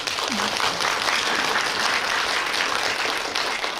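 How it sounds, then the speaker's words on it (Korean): Audience at a post-screening talk for a Korean film applauding, a continuous full round of clapping from a crowded hall, loud and even throughout. "박수 쳐주세요"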